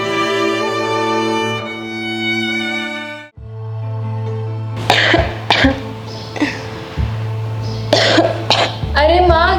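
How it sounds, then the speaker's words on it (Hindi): A woman coughs repeatedly in bursts of short, harsh hacks over a sustained music bed, with a few throat-clearing sounds mixed in. "आप इतना खांस क्यों रही हो?"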